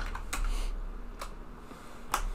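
Typing on a computer keyboard: a few sparse, close key clicks and taps spaced apart over a quiet background.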